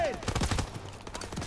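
Rapid gunfire bursts in the Call of Duty WWII campaign, dense overlapping shots and battlefield noise across the whole moment, with voices shouting over the combat.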